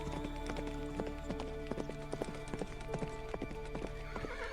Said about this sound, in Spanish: La yegua, a la orilla del lago, golpeaba con los cascos en los terrones congelados. Relinchaba.